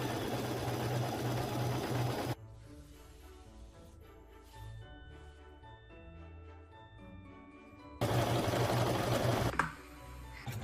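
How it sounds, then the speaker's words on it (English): Sewing machine stitching fabric strips onto a patchwork quilt block made from upcycled baby clothes, two loud steady runs of whirring at the start and end with soft music playing in the quieter stretch between. "I sew on 4 more strips in the same way."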